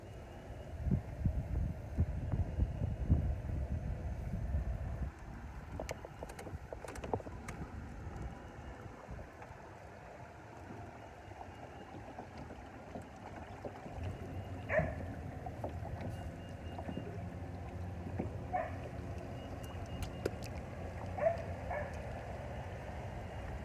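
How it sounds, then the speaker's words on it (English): Strong wind buffets a small fishing boat out on the water, a steady low rumbling roar with scattered knocks and faint creaks, continuous and close, with no talking. "the wind's blowing really, really strong right now"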